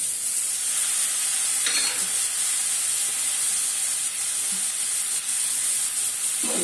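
Steady sizzling from a hot pan as curry leaves and coriander are sautéed, with brief scraping stirs now and then, close and continuous, no voices.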